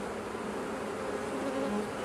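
Honey bees swarm over an open hive during a hive inspection, making a dense, steady buzzing that stays loud and close throughout, with no voices.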